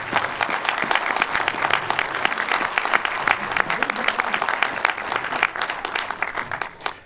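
Audience at a film presentation in Valmeinier applauding a couple seated in the front row, with dense, loud, continuous clapping throughout and a few voices mixed in.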